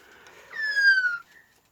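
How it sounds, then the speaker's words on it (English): Pet magpie giving a single clear whistled call that slides gently downward for under a second, fairly near in a quiet room, followed by a faint trailing note. "You must excuse the noise of my little magpie."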